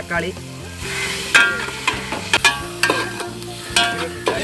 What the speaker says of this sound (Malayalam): അപ്പോൾ നമ്മുടെ ഉള്ളി തക്കാളിയും കൂടെ നന്നായിട്ട് വതങ്ങാനായി.